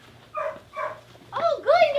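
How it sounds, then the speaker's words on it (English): Small rescue puppies under a garage yip and whimper in a few short bursts, close by and fairly faint, with high whiny cries that rise toward the end. "Who's that barking in here?"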